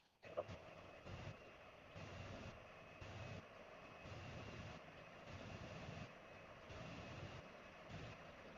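A fixed-wing aircraft engine drones steadily through a landing approach in the Xenoblade Chronicles X video game, a continuous broad roar with periodic swells, fairly loud and without speech over it.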